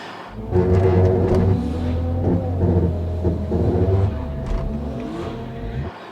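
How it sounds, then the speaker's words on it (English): A BMW 335i N54 engine revs hard during a burnout and holds a loud, rough drone, with a rapid pulsing shudder from the brakes running through it, before cutting off abruptly near the end. "I could hear it going brrr, and you actually hear the brakes pulsing."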